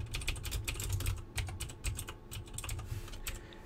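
Steady rapid clicking of keys on a computer keyboard, close and fairly quiet, irregular bursts of keystrokes continuing throughout with no voices.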